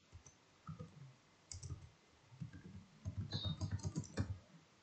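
Keys clatter on a computer keyboard in irregular bursts, quiet and close, starting sparse and then running into a quicker stretch of typing with no talk over it.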